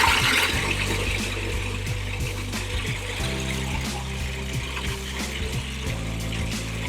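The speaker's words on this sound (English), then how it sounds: "I'm just going to put in a little bit of water" Water pours into a blender holding vegan salad dressing, a brief trickling splash that continues as a steady liquid rush, close and moderately loud, with no talking.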